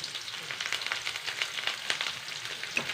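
Small onions and curry leaves crackle in hot oil, a close, busy sizzle with sharp pops and spits scattered over a bright hiss.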